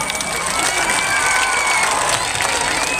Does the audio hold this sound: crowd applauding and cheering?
yes